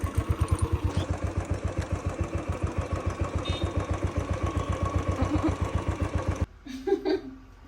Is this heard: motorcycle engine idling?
yes